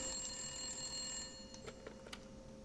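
A telephone rings inside a horror video game set in a creepy doll house, with faint repeated ring bursts over a steady electronic hum and background game ambience, no talk.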